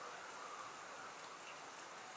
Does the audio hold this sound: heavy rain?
yes